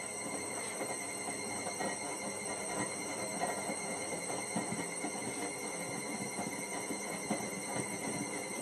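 A Miele Prestige Plus W562 washing machine with a snapped drum spider gives a continuous grinding rumble and scraping squeal as the drum turns, steady and close with no talk.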